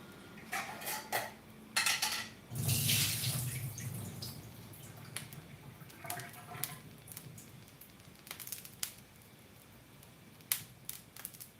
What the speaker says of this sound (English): I have this soaked yuba. I'm going to drain it and cut it up.